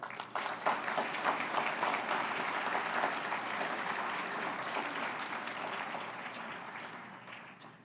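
Sustained audience applause fills a Chamber of Commerce annual awards banquet in Fairfield, Iowa, steady and dense for several seconds before tapering slightly at the end, with no talk over it.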